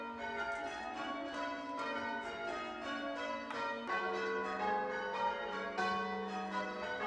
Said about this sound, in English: it's just ringing everybody to church